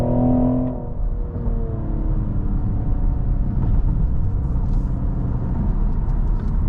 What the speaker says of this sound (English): Yeah, I like that exhaust. It's a nice exhaust for sure.